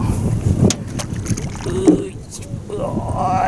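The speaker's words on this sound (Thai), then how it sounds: "เอาเรือเข้าไปครับ" A small boat is eased forward across Nong Han lake during snakehead fishing, with close water sloshing, hull knocks and steady wind rumble on the microphone, and brief voices under the noise.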